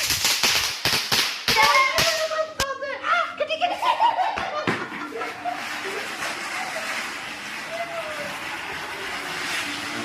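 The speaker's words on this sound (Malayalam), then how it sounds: "അങ്ങനെ കുറേ നേരം പടക്കം പൊട്ടിച്ചുകൊണ്ടിരുന്നു" Firecrackers burst in a quick run of sharp, loud bangs through the first half, mixed with laughter and voices, before things settle into quieter chatter.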